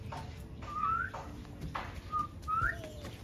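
At Accra Zoo a person whistles toward a laughing jackal, giving two short rising whistles about two seconds apart, close and clear over quiet outdoor background noise.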